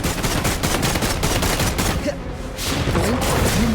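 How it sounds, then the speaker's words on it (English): Rapid bursts of gunfire in the video game Wuthering Waves, dense repeated shots in fast volleys with a brief lull midway, loud and close. "let the bullets fly"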